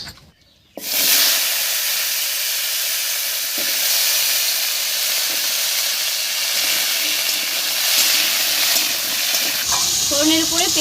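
Diced raw papaya and potato sizzle loudly after hitting hot oil tempered with whole cumin, dried red chillies and a bay leaf, a sudden burst of steady frying hiss with faint stirring clatter near the end.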